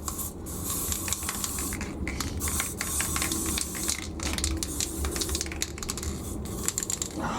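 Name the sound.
aerosol primer spray can spraying washing machine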